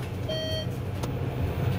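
A short elevator beep, a single clear electronic tone standing out over a low hum of background noise.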